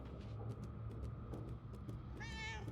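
A player's voice mimics a cat's meow over steady game background noise, with a rising, harmonic meow-like tone rounding off the end.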